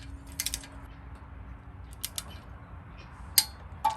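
Ratchet tightening the last bolt on a windage tray during an F-body oil pan install on a 5.3 LM7 V8: a few brief clicking bursts spread across a quiet shop background, fairly close and faint.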